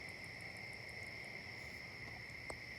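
Crickets chirp in a steady, continuous high trill at night, faint and distant, with a single brief click near the end.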